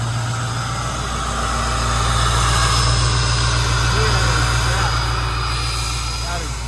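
A 2006 Ford F-250 Super Duty diesel truck with straight pipe exhaust idles with a deep, steady rumble and a throaty exhaust note, close and loud, with a faint voice underneath.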